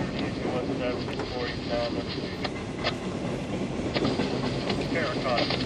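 A CSX freight train rolls past in steady rain, its wheels and cars making a loud continuous rumble with clickety-clack beats and occasional sharp clanks throughout.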